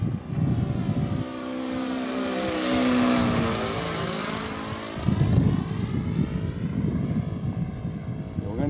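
A P-47 model airplane flies past outdoors, its propeller drone swelling and shifting in pitch as it approaches, then fading as it moves away. Voices and rustling nearby are heard around the pass.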